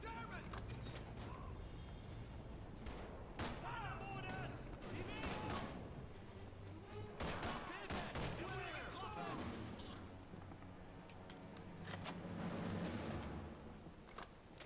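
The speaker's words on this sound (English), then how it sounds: "Trying to conserve ammo as much as possible, so I'm only doing like 1 or 2 shots at a time." Short bursts of one or two shots from a submachine gun such as the MP40 in Call of Duty 3, scattered through a busy game soundtrack with talking over it.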